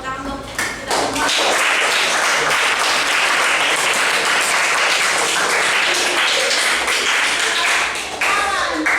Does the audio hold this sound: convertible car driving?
no